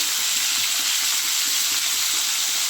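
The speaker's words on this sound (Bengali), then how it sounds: "ভেজে রাখা মাছের তেলের মধ্যে কেটে রাখা ফুলকপিগুলো ভেজে নেব" Cut cauliflower frying in leftover fish oil with turmeric and salt, a loud continuous sizzle with faint stirring underneath, steady throughout.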